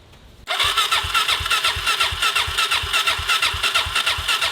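A cold, carbureted Suzuki DRZ motorcycle engine catches after a moment of quiet and settles into a loud, close, lumpy rhythmic idle with steady pulsing beats.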